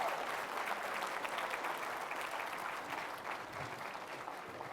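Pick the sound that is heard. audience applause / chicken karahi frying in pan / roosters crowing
audience applause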